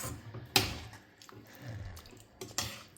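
Potato cooking water is poured into a potato gravy curry for Bombay potato curry, with sharp splashes and trickling liquid in a few separate bursts, close and fairly quiet, without talk.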